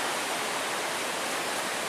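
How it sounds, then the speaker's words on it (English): A river flows steadily beside a hiking-trail campsite, a broad, even rush of water, close and continuous, with no voices. "I just sleep a little bit better to the sound of the river"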